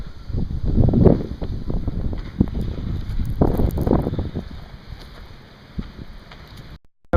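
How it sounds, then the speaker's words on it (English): Cold wind gusting outdoors just after a blizzard, a steady low roar with rumbling surges buffeting the microphone, strongest early on and easing toward the end. "Now it's just blowing. It's cold, windy."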